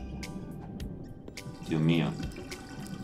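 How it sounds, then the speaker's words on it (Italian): Water gurgling down a drain in the Worms Revolution video game, a brief bubbly swirl in the middle, over a quiet ambient bed with someone briefly speaking. "Utilizza lo scarico per svuotare."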